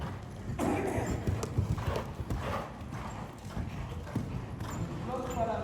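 Horse hooves clip-clop steadily in a riding arena during a lesson on a circle, a continuous rhythmic beat close by under an instructor's ongoing speech.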